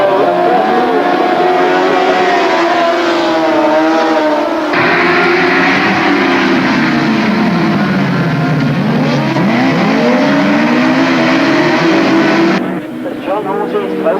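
Grasstrack racing motorcycles roar along a straight in a race heat, a continuous loud engine blare rising and falling in pitch as the bikes pass close by, with a commentator talking over the noise throughout.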